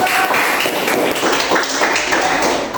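A classroom of students clapping together, a steady dense patter of many hands sustained throughout, loud and close.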